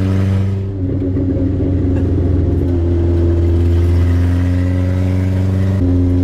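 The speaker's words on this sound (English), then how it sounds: "Accelerating, it sounds like a tractor, but decelerating, it sounds like a popcorn" An old Toyota Corolla wagon (TE72) engine revs and rumbles steadily nearby, loud and throaty with a burbling low tone that rises slightly partway through.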